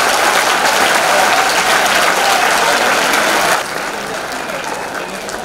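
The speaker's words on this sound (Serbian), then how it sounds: "Jedan velik aplauz za Jelenu Novijek." Loud, close audience applause at a charity concert rolls on for several seconds, then drops abruptly to a quieter, thinner clapping that continues to the end.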